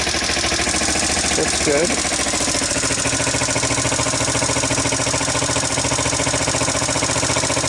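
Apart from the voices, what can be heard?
Sunl 110ST ATV engine idling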